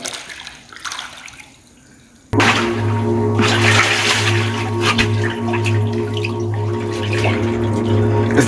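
Water sloshing and splashing as someone wades toward a cave entrance, starting with quieter dripping and a faint background, then abruptly turning into loud, close, continuous churning water.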